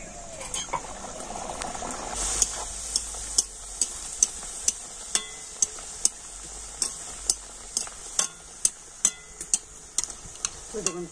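Peas-stuffed kachori frying in hot oil give a steady close sizzle, punctuated by a regular series of sharp clicks and taps roughly every half second, with no voices.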